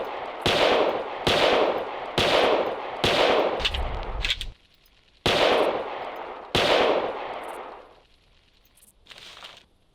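Double-barrel shotgun blasts in the hunting game Carnivores: six loud, booming shots spaced roughly a second apart, each with a decaying tail, in a quiet outdoor setting with a short gap mid-sequence.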